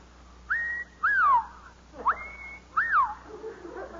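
A man whistles an imitation of the pink bosom warbler's mating call, four clear rising and falling whistled notes in a short, spaced pattern over a quiet room.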